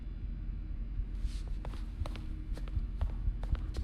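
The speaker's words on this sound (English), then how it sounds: "I heard footsteps" Footsteps sound behind Spider-Man in a Spider-Man video game, a run of soft, fairly close taps at an uneven walking pace over a low, steady background hum.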